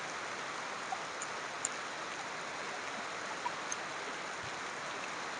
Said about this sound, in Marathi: एकदम जोरदार पाऊस चालू आहे